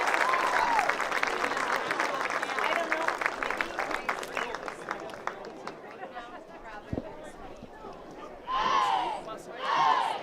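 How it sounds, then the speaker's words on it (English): Loud, sustained crowd applause and cheering fills the stands at a Dickinson State University homecoming college football game, honoring the game's honorary captains. It eases toward the middle, then swells again with bursts of shouting near the end. "Please give Richard and Kayleen a big Blue Hawk round of applause"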